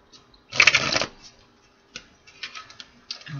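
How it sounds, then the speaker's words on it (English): A deck of tarot cards gets one short, loud riffle shuffle, followed by a few soft ticks and taps as the cards are squared up. "Let's do one more shuffle, my guides."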